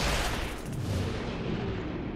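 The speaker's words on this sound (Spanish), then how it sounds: "Y ahora sí que disparo la torreta así." A turret firing in XCOM: Chimera Squad, a heavy booming blast that rolls into a dense, sustained rumble of gunfire, loud and close with no talk over it.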